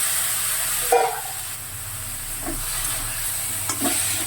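Boiled soybean chunks drop into a hot pan and fry with a steady hiss, broken by a few louder scrapes and stirring clatters near the start and toward the end.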